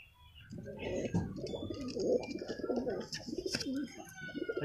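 Pigeons coo continuously in low, rolling, overlapping calls close by, with occasional wing flutters and faint higher chirps mixed in.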